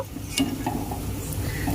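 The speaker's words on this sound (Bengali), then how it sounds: "এখন আমি কেকগুলোকে তেল থেকে তুলে নেব।" Deep-fried cake balls are lifted out of hot oil in a pan, giving a steady soft sizzle with a few faint metallic scrapes and clinks.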